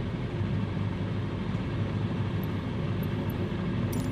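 An aircraft taxiing in Microsoft Flight Simulator 2020, a steady broadband engine roar with a low rumble that holds unchanged throughout.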